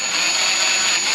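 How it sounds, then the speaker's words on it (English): A power drill bores a small 1/8-inch pilot hole to mount a carbon front splitter on a Cadillac CTS, a loud steady high-pitched whir held at constant speed for about a second, close by. "we'll drill through"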